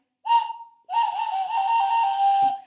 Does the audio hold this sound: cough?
no